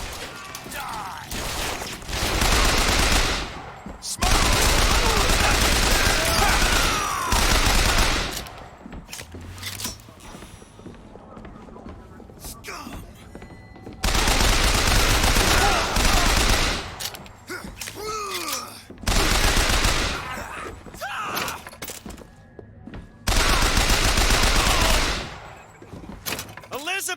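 Sustained bursts of automatic gunfire from BioShock Infinite, loud and dense, arrive in three long volleys separated by quieter stretches of in-game clatter and movement.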